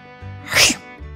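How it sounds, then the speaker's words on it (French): One sharp, close sneeze bursts out over a quiet background hum, brief and loud. "se mit à éternuer"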